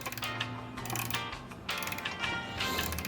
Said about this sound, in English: I'm just going to go ahead and torque down